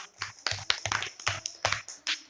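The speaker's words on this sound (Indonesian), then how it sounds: "Tepuk tangan buat kelompok 3." Applause for group 3 in an Indonesian school classroom: a short burst of irregular hand claps at close range, quiet overall, several hands clapping out of sync for about two seconds.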